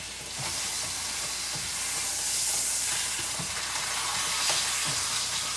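A beef roast searing in a hot pan, a loud steady sizzle and crackle with faint soft knocks as it is moved, continuous and close without talking.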